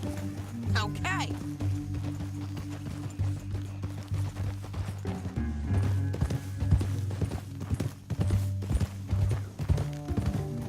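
Horse hooves clip-clop steadily in Red Dead Redemption 2, a rhythmic trot running under continuous game music, with characters talking over it and a brief whinny near the start.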